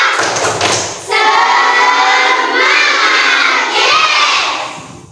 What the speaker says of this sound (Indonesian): biar semangat hari ini kita tepuk semangat dulu ya